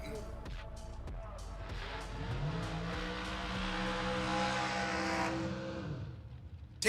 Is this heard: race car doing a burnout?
yes